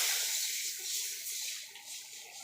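Water is poured into a pan holding ghee and bay leaf while making a ragi (mandia) recipe, giving a soft, steady hiss that stays faint and close throughout.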